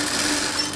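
Sewing machine stitching the hem of a kaftan dress, a brief steady mechanical whir that stays fairly loud and even throughout.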